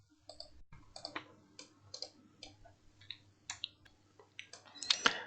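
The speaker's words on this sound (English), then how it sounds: "let's click on OK" A computer mouse clicks in a quiet room while someone works in CATIA V5 design software, giving a string of sharp, close, irregular clicks and ticks with no talking.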